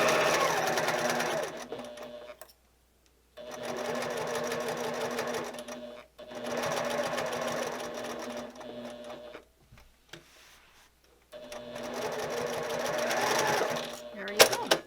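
A sewing machine stitching a zipper cosmetic bag runs in several steady bursts of a few seconds each, humming and whirring up close, with short pauses between them and a voice talking over parts of it.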